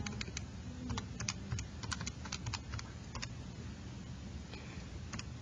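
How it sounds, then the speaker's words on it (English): Keys on a computer keyboard are tapped in quick, uneven bursts as an equation is entered, light clicking over a soft background rumble, with no talking. "So if I type this in"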